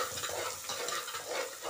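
Tomatoes fry in a pan for a peas dish, a dense bright sizzle with soft stirring noise, close and continuous with no voices.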